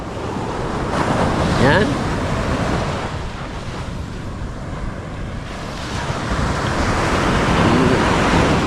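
Steady roar of surf washing on a beach on a rainy early morning, with wind buffeting the microphone, loud and continuous, with a brief spoken word near the start.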